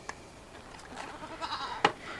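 A goat tied at a house doorway bleats a few times amid quiet background noise, the calls moderately near, with one sharper, louder bleat near the end.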